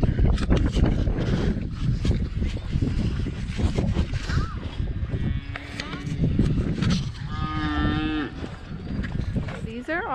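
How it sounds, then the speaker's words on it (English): Feeder heifers in a muddy farm pen moo loudly and repeatedly, several overlapping calls close to the microphone, with wind buffeting and a voice speaking among them. "they're all heifers and they all say that they want some milk"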